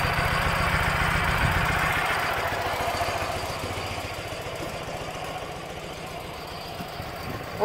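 A 2006 Ural Troyka 1WD sidecar motorcycle engine runs steadily on a lot, a throbbing, uneven idle that holds fairly loud throughout and ends in a brief louder burst.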